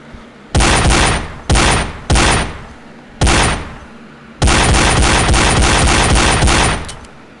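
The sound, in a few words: gunshots from a double-barreled pistol in the video game Gun Club VR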